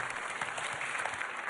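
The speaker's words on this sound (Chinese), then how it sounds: "掌声有请。" A studio audience on a televised dating show stage claps in a steady, dense burst of applause, moderately loud and heard without any speech.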